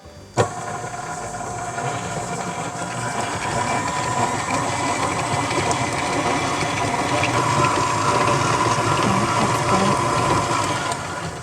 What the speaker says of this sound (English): Now we're going to cream the butter and the sugars, and by cream I mean mix it together till you have a creamy mixture.